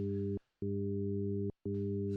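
A steady 400 Hz sine wave combined with additional sine tones gives a loud, unbroken electronic hum, cut by two short gaps of silence before resuming.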